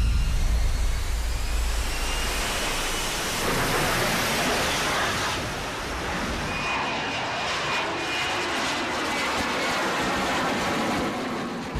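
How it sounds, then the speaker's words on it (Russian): F-35 fighter jets fly over joint US–South Korean military exercises, a loud, continuous broadband jet roar that swells and holds steady for about twelve seconds with no talk. "будут задействованы и вот эти истребители F-35."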